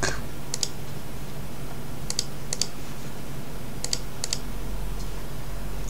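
A computer mouse clicks in a few quick pairs and single taps, sharp and close, over a faint steady room hum with no talking.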